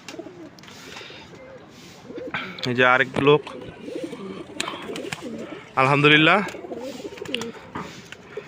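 Pigeons in a home loft coo softly and repeatedly, with two louder close bursts of cooing standing out, while someone talks over them.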